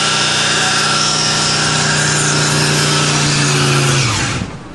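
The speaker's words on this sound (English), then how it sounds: "I think he just burned off the good tire" A Hurst Olds roars through a loud, sustained burnout, engine droning steadily at high revs with broadband tire-spin hiss filling the air before the noise drops away at the end.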